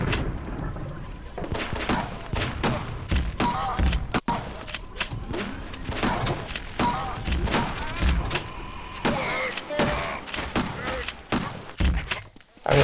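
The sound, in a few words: shotgun firing in a Quake mod, video game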